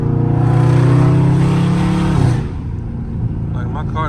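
A loud, deep Dodge Charger Scat Pack engine rumbles close up for a couple of seconds on a street drive, then drops away abruptly, leaving a quieter background with faint clatter.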